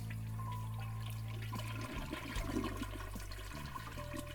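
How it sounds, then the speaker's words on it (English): A toilet flushes in the RPG Maker game Kingdom of Nyabur. Soft, prolonged rushing and gurgling water plays quietly over a low, sustained game music drone. "That is a very long flush."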